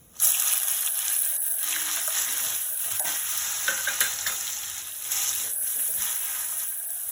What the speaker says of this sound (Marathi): तेलामध्ये भाजून घ्यायचं.